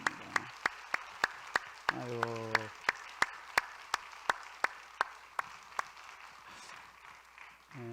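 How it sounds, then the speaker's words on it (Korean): A church congregation claps in a steady, evenly spaced unison beat, sharp and fairly quiet, while someone speaks briefly over it. "우리 박수로 한번 축복합시다."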